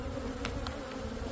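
Honey bees buzzing faintly around a hive as a nucleus colony is installed, a soft, continuous drone with a few brief louder passes close by.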